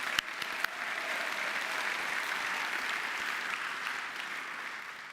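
Audience applause at the opening event of the World Rescue Challenge 2022 in Luxembourg: a crowd claps steadily for about five seconds, with a few sharp, distinct claps at the start before the sound settles into an even wash.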